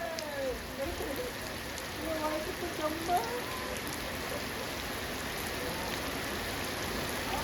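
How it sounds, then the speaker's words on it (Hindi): Steady rain patters and hisses in the background while a voice murmurs faintly beneath it early on. "गाइस, बारिश हो रही है"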